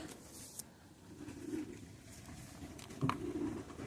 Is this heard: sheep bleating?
no